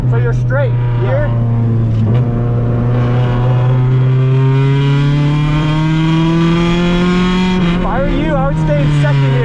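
A 1992 Honda Civic DX EG hatchback with a swapped H22A engine lapping a race track, its loud engine drone rising and falling through shifts and a downshift, close and continuous, with a voice speaking over it.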